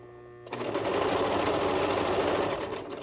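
A sewing machine stitches fabric for a hood, starting after a brief pause and then running as a steady, close, even whir until the end.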